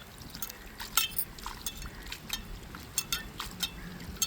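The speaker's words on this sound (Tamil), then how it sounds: "இப்போ கருவாட்டை அலசி எடுத்துக்கிடுவோம்." Soaked dried fish (karuvadu) is rinsed by hand in a vessel of water, with soft splashing, sloshing and dripping in irregular bursts, close and fairly quiet, without talk.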